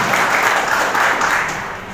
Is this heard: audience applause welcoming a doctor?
yes